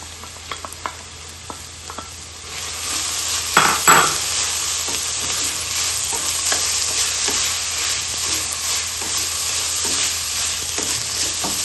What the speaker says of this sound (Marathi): आपण ती भाजी पण यात परतूया।